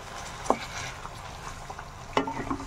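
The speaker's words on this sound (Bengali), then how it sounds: "বন্ধুরা, আগে মাংসগুলোকে একটুখানি ভেজে নেব।" Meat frying in a pan gives a low, steady sizzle, broken by two sharp stirring scrapes of a utensil, one early and one near the end.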